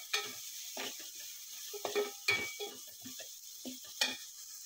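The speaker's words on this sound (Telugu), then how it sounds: "ఈ అల్లం వెల్లుల్లి పేస్ట్ పచ్చివాసన పోయేదాకా వేయించుకోవాలి." Ginger garlic paste with salt, turmeric and red chilli powder frying in a pan for egg bread masala, with a soft sizzle under repeated close spatula scrapes and stirring clinks.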